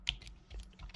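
A few quick keystrokes on a computer keyboard while entering a number into a running program, soft, close taps over about one second.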